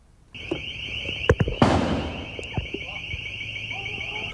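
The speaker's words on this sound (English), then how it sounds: "The FBI swarming the entire neighborhood with long guns and firing flashbangs." A flashbang goes off as FBI agents with long guns swarm a neighborhood around a home in news footage: one sharp burst rings out amid a few smaller pops over a steady wailing alarm.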